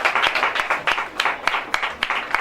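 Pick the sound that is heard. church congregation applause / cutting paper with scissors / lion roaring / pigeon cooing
church congregation applause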